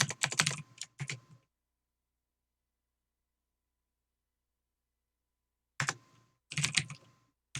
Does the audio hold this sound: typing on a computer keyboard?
yes